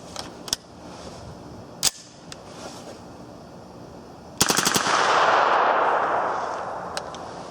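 A 9mm AR-15 rifle loaded with a metal 20-round magazine fires a few scattered single shots, then a fast close string of loud cracks that trails into a long echoing rumble.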